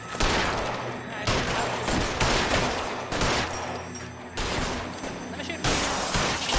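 Gunfire in the video game LA Noire, loud, dense and sustained, with bursts of shots in repeated waves across the whole stretch and no pause between them.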